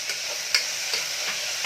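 Ladle scraping and stirring through tomatoes and green chillies in a pan of frying onions, with a steady soft sizzle and a few sharp clinks of metal against the pot.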